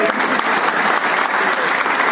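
Steady, dense applause from a seated audience at a Pravasi Rajasthani community felicitation ceremony in a large hall in Bhayandar, Mumbai, sustained and loud throughout without pause.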